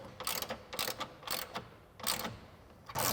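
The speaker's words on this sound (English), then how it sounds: "I'm going to take my 13 millimeter socket and my 3/8 ratchet again." A 3/8 ratchet with a 13 mm socket tightens bolts while installing side step bars on a 2021-2023 Bronco, giving repeated bursts of rapid close clicking separated by short pauses.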